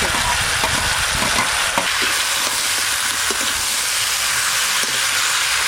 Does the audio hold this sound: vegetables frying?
yes